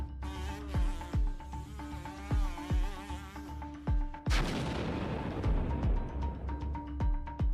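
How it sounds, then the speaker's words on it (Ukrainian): Repeated loud tank cannon booms, a dozen or so sharp blasts at irregular intervals, over a constant buzzing drone resembling a hovering drone or insect, during combat against a Russian motor column. "влучні постріли гармати і російська мотоколона знищена"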